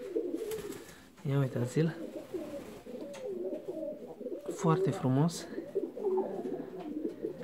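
A fancy pigeon weighing over 700 grams coos in deep, repeated rolling bursts close by, while someone talks intermittently over the calls.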